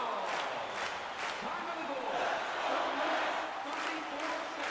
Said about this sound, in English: Now we've got a Let's Go Pens chant along with claps.